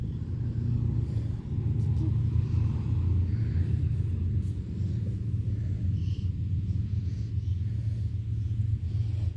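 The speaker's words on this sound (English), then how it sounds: "Here comes another truck." Another truck drives past near a lakeside beach, a heavy low rumble that holds steady and fairly loud, with faint voices in the background.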